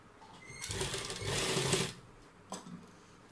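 A sewing machine stitches fabric loops around the neckline of a kurta, running in a steady burst of about a second and a half, then a short clatter as it stops, close and fairly loud with no talking.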